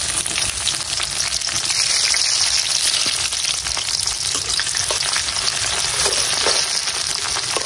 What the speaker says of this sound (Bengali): এখন এই পেঁয়াজ আর রসুনটাকে হালকা একটু লাল করে ভাজতে নিলাম